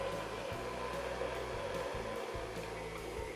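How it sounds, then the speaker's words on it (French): A stand mixer with a dough hook kneads brioche dough at low speed, giving a steady whirring motor hum with a faint rhythmic thump as the dough turns in the bowl. "J'installe la cuve sur le batteur avec le crochet et je commence à mélanger doucement"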